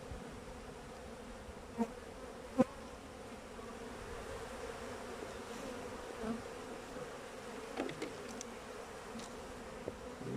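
Honeybees buzz at a crowded, overflowing beehive during a beekeeping inspection. The drone is steady and moderate, with a few brief louder passes close by and no talking.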